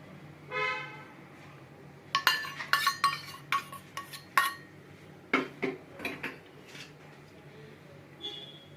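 Fish being mixed with spices in a metal kadai for a mustard fish and eggplant dish, a burst of sharp metallic clinks and scrapes followed by scattered knocks, close and fairly clear.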